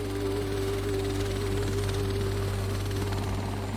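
Helicopter in flight inland in Alaska, heard from inside or close by: a loud, constant engine drone with a steady low rotor throb and a humming tone that never lets up.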